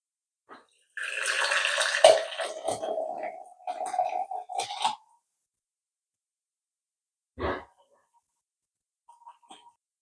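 Apple and lemon tea is poured through a tea strainer, a close splashing trickle lasting about four seconds, followed by a short separate splash and a few faint drips.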